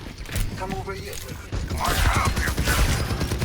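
Gunfire and a grenade launched in the team shooter Overwatch 2, a quick volley of shots with mechanical clicks and a burst, under someone talking over the game audio.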